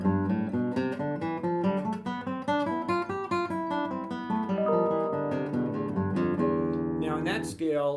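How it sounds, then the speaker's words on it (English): Classical-style guitar plucked in open position, running up a scale of natural notes in a steady, even rhythm with ringing overlapping tones, close and clear with no talking. "That scale, it's just the natural notes on the guitar"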